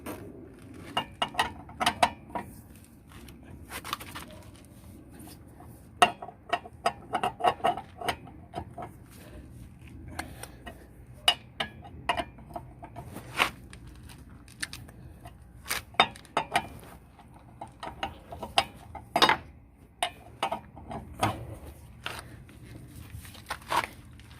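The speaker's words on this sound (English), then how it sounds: "I'm gonna do my best to torque them down. I don't have a torque wrench" A hand wrench works on car wheel lug nuts during a brake check, giving scattered metallic clicks, ratcheting ticks and clanks at close range over a quiet background, with no talk.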